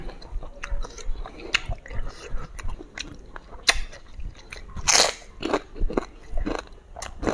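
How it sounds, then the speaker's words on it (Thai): Someone eats spicy squid tentacle salad with rice noodles, the chewing and crunching close and steady, with a sharp bite or slurp standing out midway. "เส้นเสียดายเอาเส้นขานุ่มใส่ กินกับข้าวปุ่นเนี่ยสุดยอดนะ"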